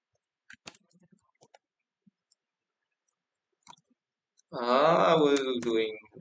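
Sparse, faint clicks of typing on a computer keyboard while entering an AI image prompt, a few scattered keystrokes in the first few seconds, followed by a person talking near the end.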